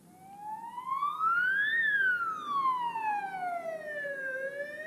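A wailing ambulance siren sweeps up and down in pitch over several seconds, loud and close, with no other sounds competing, as emergency vehicles gather on a street where blue lights are flashing.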